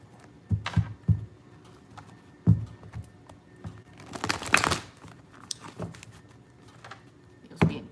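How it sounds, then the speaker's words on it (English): A deck of tarot cards being shuffled up close, with irregular bursts of crisp riffling, slapping and crinkling, plus a denser flurry midway and no voices. "Cards don't want to shuffle."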